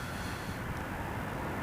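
Air Canada Airbus A220 landing at Toronto Pearson on runway 05, heard as a steady, broad, low engine rumble and airflow roar at moderate distance throughout, with no voices.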